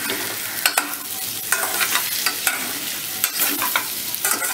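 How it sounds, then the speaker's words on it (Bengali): Pieces of fried elephant foot yam are stirred with masala in a hot pan, steady sizzling broken by frequent scraping and stirring strokes, no one talking. "ভেজে রাখা ওলগুলো দিয়ে দিলাম, সামান্য একটু কষিয়ে নেবো"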